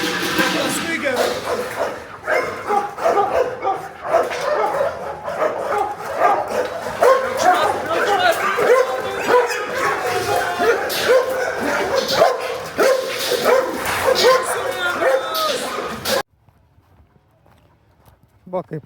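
A shelter dog barks and yips repeatedly among other animal and movement noise, with people talking throughout, before the sound cuts off near the end.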